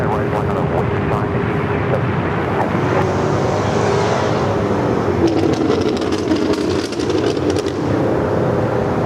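Airliner departing from LAX on the south side runways, a loud sustained jet roar building and rising in pitch as it rolls and climbs, with radio chatter and talk over it.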